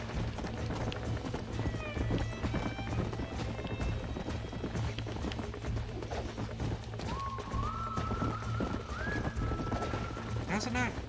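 Horse hooves clip-clopping at a run in the Western video game Red Dead Redemption, with a horse whinnying, steady galloping rhythm close up under a constant game music and sound bed, with someone talking over it.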